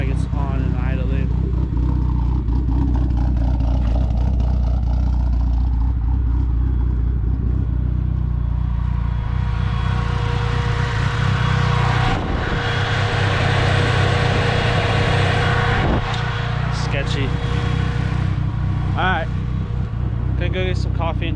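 A 2g DSM car engine runs at a steady idle, a constant low rumble filling the scene, with people talking over it throughout.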